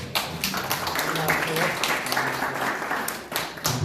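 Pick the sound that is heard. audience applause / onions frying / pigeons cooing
audience applause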